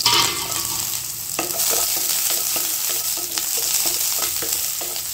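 Chopped onion frying in hot oil with mustard seeds and curry leaves, a loud continuous sizzle broken by regular spoon scrapes and clinks as it is stirred; no talking.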